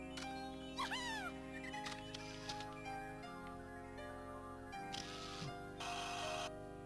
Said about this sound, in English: we do have a fairly energetic banana fairy by the sounds of it